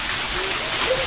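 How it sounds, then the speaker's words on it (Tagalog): A dense, steady hiss of heavy rain pours down continuously, loud and close, with a faint voice briefly audible beneath it. "biglang bumuhos ang ulan"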